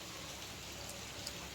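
Steady rain falls continuously at a household during an evening, a dense even hiss with no voices.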